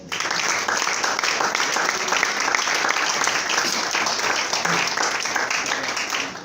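A church congregation applauds to acclaim the Lord during a preaching seminar, a dense, steady wash of many hands clapping that carries at even loudness throughout.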